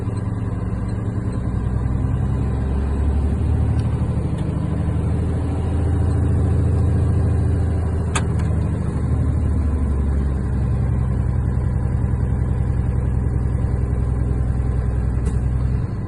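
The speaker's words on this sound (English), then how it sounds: "I'm gonna rev it up. And I'm gonna wait for the tanks to build up pressure." A heavy truck's diesel engine is held at raised RPM to build air brake tank pressure during a CDL air brake test, a loud, steady, low rumble that runs unbroken for the whole stretch.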